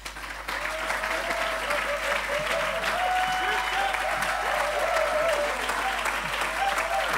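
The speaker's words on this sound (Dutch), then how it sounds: "Laten we een hartelijk applaus geven als hij naar voren komt" Congregation applauding in a church during a live Sunday evening service, sustained steady clapping with a sung or spoken voice faintly underneath throughout.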